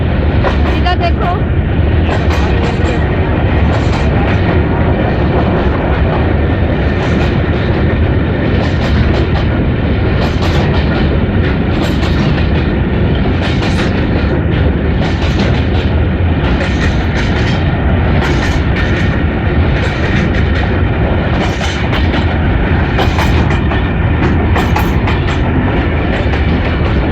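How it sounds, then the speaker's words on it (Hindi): Railway carriages roll steadily past close by, a loud continuous rumble with clickety-clack wheel beats throughout, and a voice talks over the noise. "ये देखिए, ये डिब्बा गया है ना, इसका डिब्बा बहुत बड़ा है"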